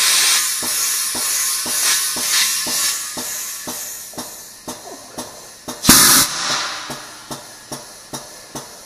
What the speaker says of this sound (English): That loud sound you just heard was the air jets I was talking about earlier.